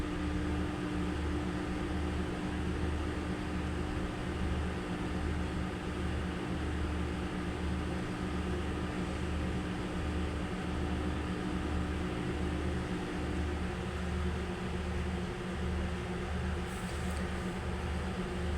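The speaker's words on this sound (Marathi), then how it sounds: "त्याची पेस्ट करून ही तळायला टाकली मी त्याला आपण परतून घेऊया छानपैकी" Tomato and garlic paste frying and being stirred in a pan: a steady, close sizzling hiss runs throughout over a rhythmic low thumping, with no voices.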